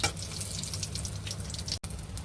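Soybean pakoras with raw onion and chili fry in hot oil, giving a steady close crackling sizzle that drops out for a split second near the end, with no talking.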